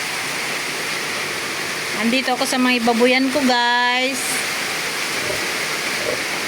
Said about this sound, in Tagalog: Lakas ng ulan dito guys sa amin. Lakas pa ng hangin, may bagyo